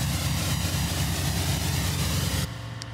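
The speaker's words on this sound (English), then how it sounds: "This is going to be our impact." A synthesized wind riser built in Harmor roars as a loud, dense, noisy whoosh with a droning low end, then drops abruptly into a thinner, quieter tail after a sharp impact point.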